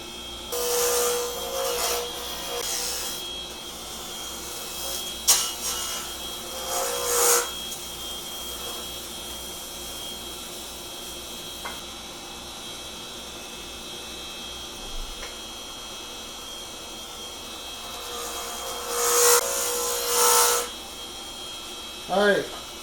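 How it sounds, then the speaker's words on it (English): An Easy Wood carbide tool cuts a pine cone pen blank spinning on a lathe, giving bursts of scraping and chattering over a steady motor hum, with quieter gaps between passes. "Now I'm going to use my Easy Wood carbide."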